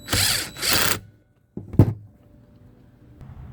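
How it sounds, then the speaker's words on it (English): A star-bit driver screws the cover back onto a Stihl HT 101 pole saw: two short close whirring bursts, then a sharp click and a faint low hum. "put your cover back on with your star tool"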